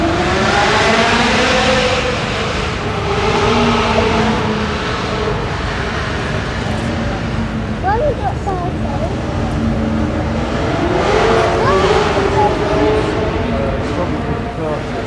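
Historic racing car engines start and idle loudly at the Goodwood Festival of Speed Cacklefest, a dense, rough, crackling engine roar that swells and varies in pitch while people talk over it.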